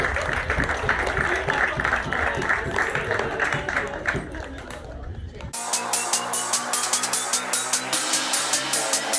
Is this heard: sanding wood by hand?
no